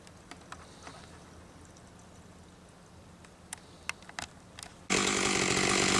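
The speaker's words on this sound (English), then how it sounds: "we'll regas the chainsaw up and start making cants." Chainsaw starting up to cut a big cedar log: scattered clicks and knocks over a quiet background, then the engine abruptly roars in near and loud and holds a steady buzzing drone to the end.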